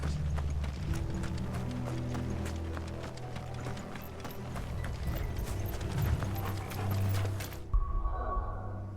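Steady, rhythmic hoofbeats of galloping horses under Final Fantasy XVI game music and effects, continuous and fairly loud, cutting off near the end.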